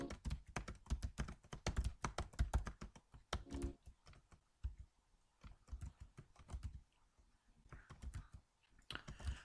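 Rapid, uneven bursts of keystrokes clatter on a computer keyboard as someone plays the QWOP video game, the taps coming in dense runs with brief pauses and no talking.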